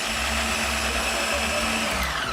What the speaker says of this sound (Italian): facciamo partire la frullatura